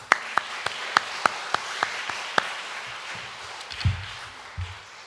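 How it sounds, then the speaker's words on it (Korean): A few people in a church congregation clap in a sparse, evenly spaced rhythm that stops partway through, followed by soft low thumps and room noise. "두 분이 그럼 박수 한번 더 칩시다."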